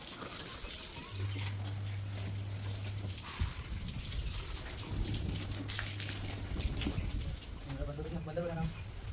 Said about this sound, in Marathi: तुम्ही बघू शकता एकदा पाणी मारून घेतो आधी.